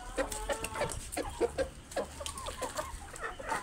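Several chickens cluck and chatter close by as they peck at cabbage thrown to them on a farm, a busy overlapping run of short calls with no talk.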